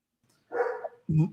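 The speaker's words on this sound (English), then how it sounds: "One of my dogs is going ape shit over here." A dog barks twice indoors, a short pair of fairly close woofs, the second deeper and punchier, with quiet before and between.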